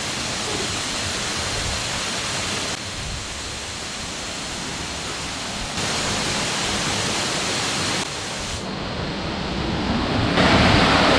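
At Hin Lard waterfall in the Koh Samui jungle, rushing water roars as a dense, steady broadband wash, loud and close, continuing unbroken with no voices.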